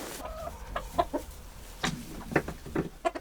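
Chickens cluck in a series of short, close calls on a mountain farm at Gombaeryeong in the morning, several birds sounding in irregular bursts with no talk.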